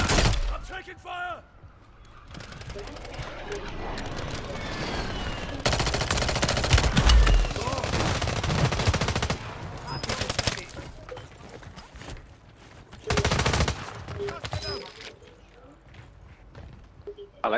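Gunfire in Warzone 3, bursts of automatic fire in several dense clusters separated by quieter gaps, with players talking over the action.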